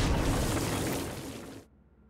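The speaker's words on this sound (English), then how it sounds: "A blast will also take down the shield of a Dark Insider, leaving it vulnerable to gunfire." A loud explosion blast in the video game Saints Row: Gat Out of Hell, a broad roaring boom that fades over about a second and a half before cutting off to near silence.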